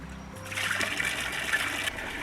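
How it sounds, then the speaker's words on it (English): Water trickles and splashes steadily from a very old spring at Moody Springs, a close, continuous liquid babble with no talking. "fill up my canteen from a really old spring"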